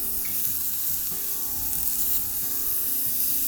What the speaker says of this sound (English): So I'm just going to pop my gator meat on here. See that lovely sear.